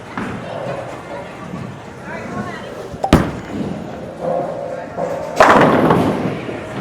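An Ebonite GB4 hybrid bowling ball, 14 lb, rolling down the lane, with a sharp thud at release and a loud crash of pins later, set in a busy alley with background crowd noise.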